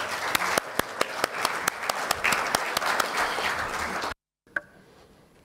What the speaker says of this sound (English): A big warm round of applause for Professor Ali Jalali.